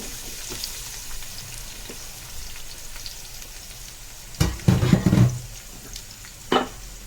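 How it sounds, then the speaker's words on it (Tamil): Spices and onions sizzle steadily in hot oil in a pot for Tenkasi-style mutton biriyani, with a constant frying hiss broken by a few louder clattering stirs near the end. "இப்போ ஒரு 2 நிமிஷம் இது வதங்கணும்."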